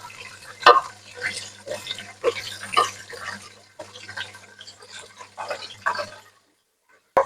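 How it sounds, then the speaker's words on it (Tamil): Onions and mint sautéing in ghee and groundnut oil for mutton biryani, heard as intermittent stirring and scraping bursts in the pan with a soft sizzle, close by, trailing into silence near the end. "வெங்காயத்தையும் இந்த புதினா இல நெய் வெங்காய கடலை எண்ணெய் மூண்டையும் வதங்க விட்டுருக்கிறேன்"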